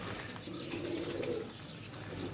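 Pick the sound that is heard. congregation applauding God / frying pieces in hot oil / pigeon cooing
pigeon cooing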